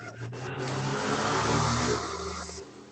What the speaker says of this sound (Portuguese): Passou uma moto aqui, eu não consegui escutar